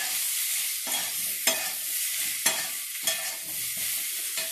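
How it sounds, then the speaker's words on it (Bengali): Ginger paste frying in a pan for a fish dish, with a constant bright sizzle broken by several sharp scrapes as a spatula stirs it at irregular intervals, close and clear with no voices. "একটু নেড়ে চেড়ে নেব। একটু আদার পেস্ট দিয়ে দিলাম।"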